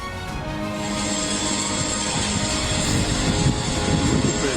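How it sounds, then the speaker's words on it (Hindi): A military attack drone flies overhead with a steady, loud, buzzing propeller drone and a constant high whine, continuous and unbroken throughout. "Это беспилотник."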